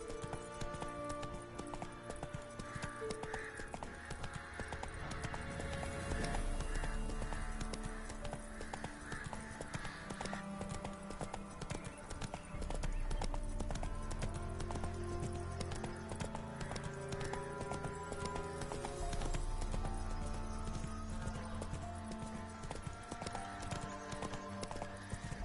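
A horse galloping in The Witcher 3, steady rhythmic clip-clop hoofbeats running throughout under a dense layer of game music and ambience, with occasional brief heavier stretches.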